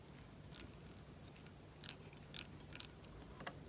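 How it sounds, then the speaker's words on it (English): Scissors snip off excess material while a fishing fly is tied, giving a few brief, crisp clicks near the mic over quiet background hiss. "And cut the excess off that as well."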